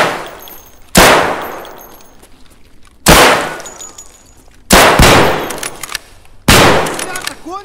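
Gunfire in the video game Escape from Tarkov: four loud, sharp shots spaced about a second or two apart, each followed by a long ringing decay with metallic tails. Faint talk sits between them.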